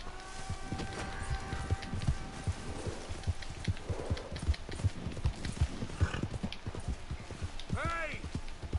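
A horse in the Red Dead 2 video game walks along with a steady, soft clip-clop of hooves, and a brief whinny comes near the end over light ambient background.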